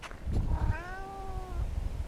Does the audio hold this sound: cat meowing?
yes